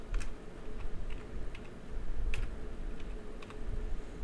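Quick, light clicks of a computer keyboard being typed on while working in Excel, close up and steady over a low background hum, with no talk.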